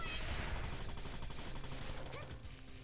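Rapid gunfire from the side-scrolling game Gal Guardians: Demon Purge, a dense stream of repeated shots running steadily throughout, with game music and effects layered underneath.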